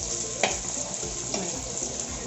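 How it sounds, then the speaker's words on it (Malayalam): Small onions sautéing in a clay pot for a Kerala-style chicken curry: a continuous close sizzle with two sharp scraping stirs, no voices. "ചെറിയ ഉള്ളി നമ്മൾ ഇട്ട് കൊടുത്തിട്ടുണ്ട്"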